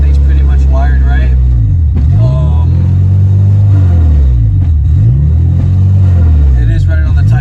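A Honda K24 engine swapped into an EK Civic and running on a Type R ECU idles loud and close, a deep steady rumble with periodic sweeping pulses in its drone.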